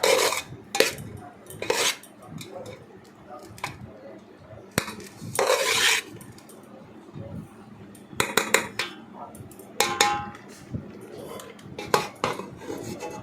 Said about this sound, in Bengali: তারপর তার মধ্যে বিরিয়ানি মশলা ছিটিয়ে দিলাম, দিয়ে সেটাকে নাড়াচাড়া করলাম।